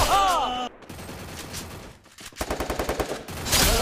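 Heavy machine gun in the Free Fire mobile game fires a rapid burst of evenly spaced shots, loud and close, among other game sound effects.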